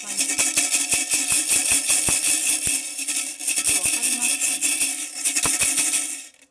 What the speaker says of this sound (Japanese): こうやって、ウクレレとかにつけて、